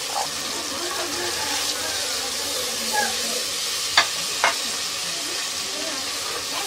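Red chili, coriander powder and salt frying in a pan with a little water for sarson ka saag: a loud, continuous sizzle with a couple of quick clicks from stirring.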